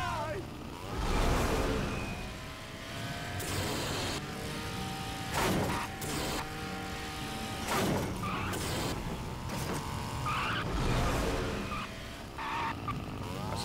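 Handbrake skid of a car in the Duke Nukem video game, a drawn-out tire screech with engine noise and clattering game effects, heard under ongoing talk.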